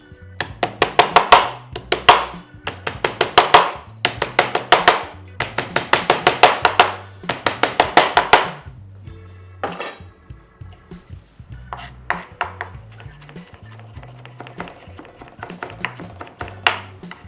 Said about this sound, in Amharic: እዚህ ጋር ደግሞ ነጭ ሽንኩርት መታመታ እናደርጋለን